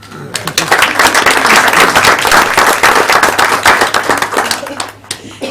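An audience at a Glynn County Schools board meeting gives a round of applause for students, dense and close clapping that swells quickly and fades near the end.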